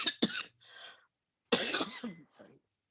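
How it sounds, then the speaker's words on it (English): A person in Delhi coughs close to the microphone, a couple of sharp coughs followed by a pause and then a longer throaty cough with throat clearing. "You'll pardon my coughing"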